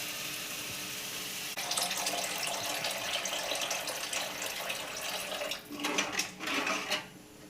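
Water runs from a kitchen tap while egg curry is cooked, a steady close gushing stream that starts abruptly and then breaks into short splashing bursts near the end, with no talk.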